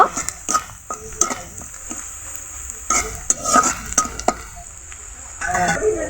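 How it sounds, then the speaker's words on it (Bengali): A spatula scrapes and stirs chili powder, turmeric, salt and lightly fried chopped onion in a hot pan for a koi (climbing fish) curry, irregular clattering strokes over a quieter sizzle. "এভাবে ছুনির সাহায্যে হালকা নেড়ে নিব"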